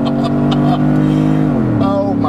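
A 430 hp LS3-powered Jeep Wrangler Unlimited accelerates hard, its engine note holding steady and loud before the pitch shifts downward as it changes gear, close to the listener, with a voice audible over the engine.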